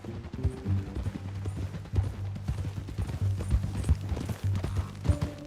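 Horse hooves clip-clopping in the video game Red Dead Redemption 2, an irregular run of hoof strikes over a low droning game soundtrack, moderately quiet throughout.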